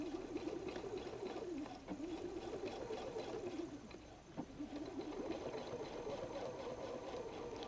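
Sewing machine top stitching a pocket flap for a messenger bag at a 2.5 stitch length, a quiet steady mechanical whir with rapid stitching pulses, briefly slowing near the middle before resuming, with faint bird cooing in the background.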